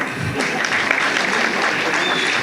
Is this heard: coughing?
no